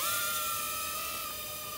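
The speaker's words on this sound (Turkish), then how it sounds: "Drone'dan korkma bak Duman." A small toy UFO drone flying on its own without a remote near a cat gives a steady, faint high-pitched whir. A few sustained tones hold for the whole stretch over a quiet background.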